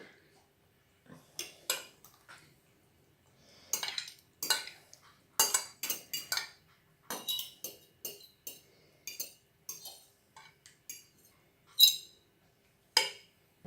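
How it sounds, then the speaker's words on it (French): A fork clinks and scrapes against a dish while whisking quiche filling, producing light, close, irregular taps and rattles with quiet gaps between strokes. "Pardon pour les petits bruits de fourchette."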